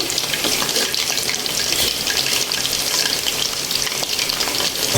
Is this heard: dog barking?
no